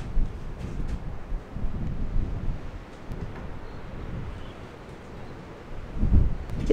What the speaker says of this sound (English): It's a bit windy inside.